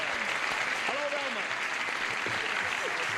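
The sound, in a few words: studio audience applause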